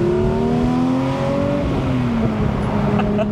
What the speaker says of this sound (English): I love accelerating this car.